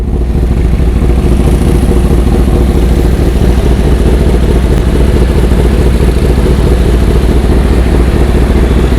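A Kawasaki ZX-10R sport motorcycle engine runs loud and close at a steady idle-like drone at a red-light intersection, continuous throughout with no talk.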